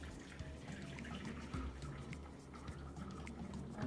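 Almond milk pours through a nut bag and strainer into a jar, a soft, steady trickle and gurgle of liquid heard close and quiet, with no talking.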